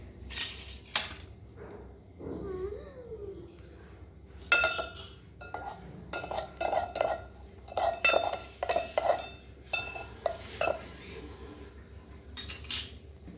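Onion being mixed in a bowl with a spoon: clustered clinks and scrapes of metal against the bowl in uneven bursts, close by, with quieter gaps between and no speech.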